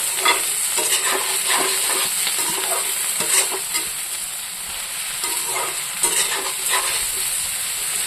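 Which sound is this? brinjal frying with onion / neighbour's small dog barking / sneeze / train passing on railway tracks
brinjal frying with onion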